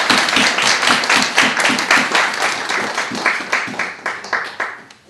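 A church congregation clapping together in thanks, close and lively with a loosely rhythmic pulse that gradually thins out and fades toward the end.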